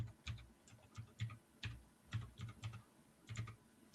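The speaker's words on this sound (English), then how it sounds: "I can hear you one finger peck typing." Faint keyboard typing, slow and uneven single keystrokes pecked out one finger at a time, clicking in irregular clusters over quiet room background.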